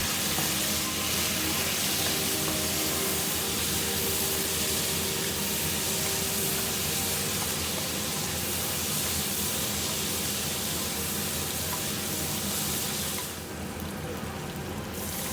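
Chinese sausage and basil stir-frying as Shaoxing wine is drizzled in, a loud continuous sizzle and steamy hiss that stays close and even, easing slightly near the end.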